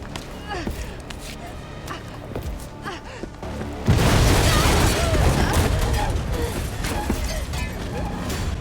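A sudden loud blast rips through the video game Resident Evil 3 (2020) midway, booming and then rumbling on, after a stretch of quieter clanking mechanisms and creaks.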